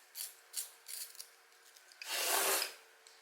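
A coloured pencil is sharpened in a few short scraping bursts, followed by a longer, louder grinding twist, close and quiet in an otherwise still room.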